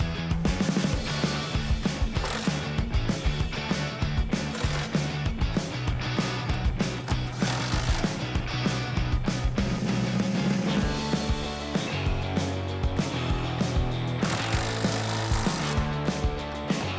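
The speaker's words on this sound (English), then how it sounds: "once you've tightened all 4 nuts back down, your installation is complete" On a 2005-2013 Mustang GT or BOSS 302, the nuts on a BMR strut tower brace are run down with a tool, a loud, continuous mechanical whirring and rattling close by with no talking.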